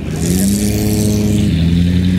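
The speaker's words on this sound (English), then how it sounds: "Oh, look at this Duesenberg rolling in." A vintage Duesenberg car engine rumbles loudly nearby as it rolls past at the 2022 Pebble Beach Concours, a steady deep drone with a slight rise in pitch.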